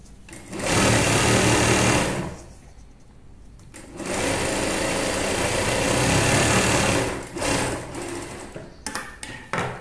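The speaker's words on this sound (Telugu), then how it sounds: "దీనికి ఇలా ఫోల్డ్ చేసి ఇలా కుట్టేయండి" A sewing machine stitches folded fabric for semi-patiala pants in a ladies' tailoring class, running in two long loud bursts and then several shorter stop-start runs, with no talk over it.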